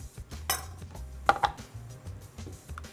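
A lemon is cut in half and juiced in a kitchen while making shrimp cocktail: a knife knocks on a cutting board and utensils clink sharply, with soft scraping and squeezing sounds between the close, scattered taps.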